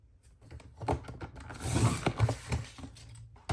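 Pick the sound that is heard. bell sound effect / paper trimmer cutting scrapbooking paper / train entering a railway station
paper trimmer cutting scrapbooking paper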